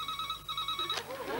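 A telephone rings with a steady electronic warble, two clear bursts sounding close and alone before cutting off as the line is answered.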